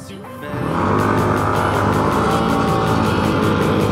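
A Vespa scooter rides through night traffic in Taoyuan, Taiwan, its engine note rising as it accelerates and then holding a steady, loud drone, with faint pulsing from nearby traffic.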